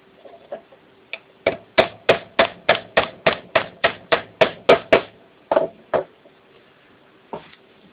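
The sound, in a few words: pin hammer tapping shaft through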